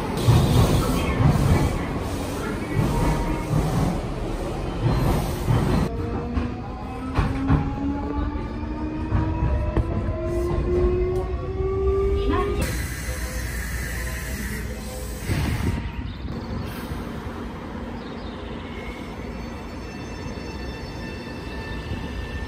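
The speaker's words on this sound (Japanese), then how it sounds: "準急が通過" A Nankai Railway semi-express train runs through a station without stopping, heard as a loud, close rumble of wheels and carriages with rising motor whine and hiss that last throughout, while a voice speaks briefly.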